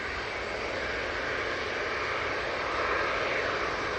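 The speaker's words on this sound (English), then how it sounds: "Touching down now." A plane touches down at Manchester Airport with a loud, steady engine roar that holds constant throughout, broad and unbroken, with no voices.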